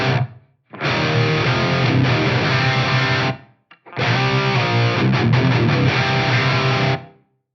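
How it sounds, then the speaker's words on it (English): A distorted electric guitar played through an FM9 amp modeler with a short room reverb sounds out in two strummed passages of sustained chords, separated by a brief silent gap, loud and close. "I'm basically just using this as like a room simulation"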